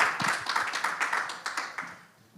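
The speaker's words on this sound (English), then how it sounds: "So a round of applause for Sean" An audience claps at a women's football summit in Athens, a dense patter of hands from a crowd that fades out toward the end, with no voices over it.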